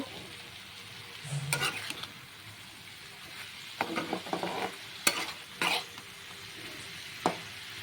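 Spices including cumin powder are stir-fried with potato and banana stem in a pan, giving soft sizzling and frying under repeated scraping strokes of a spatula that come in short, uneven bursts.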